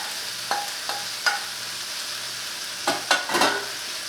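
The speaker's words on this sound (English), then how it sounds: "we're just going to mix that all together until everything cooks down" Mushrooms and snow peas are stir-fried for lo mein, with a soft sizzle under intermittent clattering utensil scrapes and stirs against the pan.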